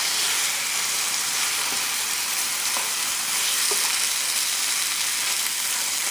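A chicken dish marinated with ginger and spices sizzles loudly and steadily in a hot pan while being stirred, a continuous close frying hiss with faint scraping touches.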